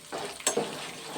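Tempering spices sizzling in a hot pan, a steady frying hiss with a brief stir or clink in the middle, close and moderately loud.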